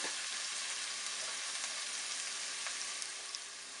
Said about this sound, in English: So I'm going to saute this for about another minute.